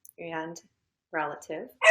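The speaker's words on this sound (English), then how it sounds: "That's my dog." A dog gives a few short barks and yips close by in a quiet room, separated by silent gaps, with a brief bit of human talk in between.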